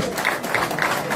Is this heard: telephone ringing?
no